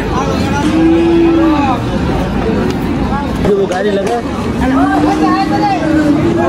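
Cattle low repeatedly amid a busy crowd at a Bangladeshi cattle market, with moos rising over constant chatter and general market bustle nearby.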